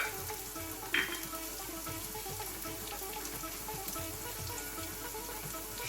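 Ginger, garlic and chili fry in hot oil for Indian vada pav, giving a steady, close crackling sizzle with one brief sharper pop near the start.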